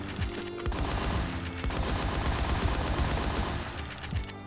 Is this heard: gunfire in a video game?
yes